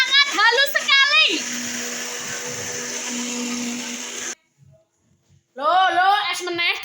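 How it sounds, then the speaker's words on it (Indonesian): A kitchen blender grinds cooking spices with a loud, steady whirring drone for several seconds and then stops abruptly. Someone talks briefly before it starts and again after a short pause. "Blendernya berisik. Ini nanti mau tak blender sangat halus sekali."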